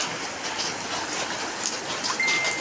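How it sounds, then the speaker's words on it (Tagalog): Rain falls steadily during Typhoon Paeng in 2022, a dense, even hiss of heavy rainfall with a few scattered drip sounds, heard alone without talk. "Kahit least nababawasan yung ulan."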